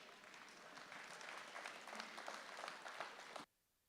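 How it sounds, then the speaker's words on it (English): Crowd applause for exhibitors at an FFA goat show at a state fair, steady clapping from many hands lasting a few seconds before cutting off abruptly. "Let's give them all a round of applause."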